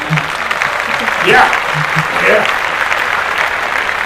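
Applause rises on a casual talk podcast, a moderate burst of clapping mixed with overlapping voices and a short exclamation, swelling twice before settling.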